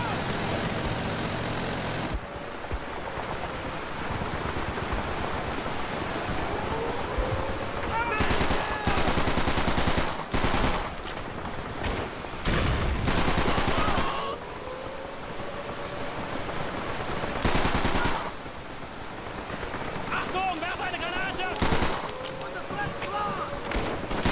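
Gunfire in the World War II shooter Call of Duty 3, with bursts and volleys from machine guns crackling steadily through a long, dense battle din, loud and continuous with short sharp peaks.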